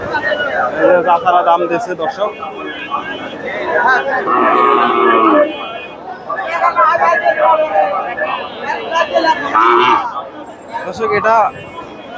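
Cattle at a bull cattle market in Bogura give loud, drawn-out moos over a busy crowd of talking voices, with several calls rising above the chatter.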